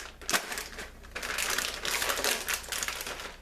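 Scissors snipping open a bag of Reese's Pretzels with dark chocolate, a series of crisp cutting clicks and crinkling plastic up close, the sharp cuts coming in short irregular bursts.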